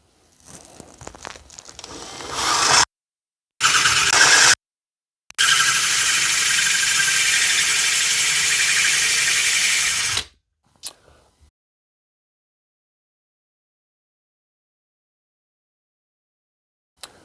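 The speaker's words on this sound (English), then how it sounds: "Add water and begin to drill" A water-fed core drill bores through stained glass held on wood pieces, giving a harsh, gritty grinding hiss in loud bursts broken by short pauses, then one long steady run that stops abruptly before silence.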